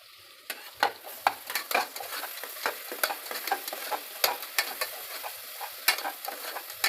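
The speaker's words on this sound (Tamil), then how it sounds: "சின்ன வெங்காயத்தை நல்லா அரைச்சிக்கிட்டேன், போட்டுக்கலாம். நல்லா வதக்கி விட்டுக்கலாம்." Ground shallots sauté in hot oil as a spoon scrapes and stirs them, producing a soft continuous sizzle punctuated by sharp, irregular clacks of the utensil against the pan.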